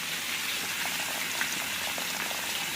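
Water bubbling at a steady boil in a pot with fried onion base for cooking rice, a continuous hiss with faint popping and no voices.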